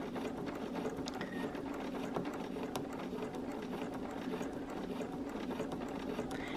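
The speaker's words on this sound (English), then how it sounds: "I'm going to start stitching" A sewing machine with a walking foot stitches steadily through a mini quilt, giving a fast, even mechanical whir and needle chatter close by, running on without a break and without any voices.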